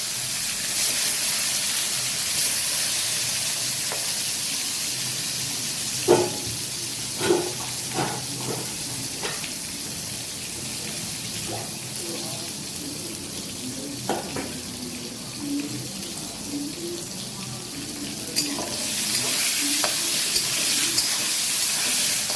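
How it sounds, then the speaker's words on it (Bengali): Large cut pieces of eggplant fry in hot oil, a steady broadband hiss running throughout with scattered crackles and a few sharper utensil clicks, close and moderately loud, no talking. "এই বেগুনগুলো একটু ভেজে নেবো, আগে ভেজে তুলে নেবো।"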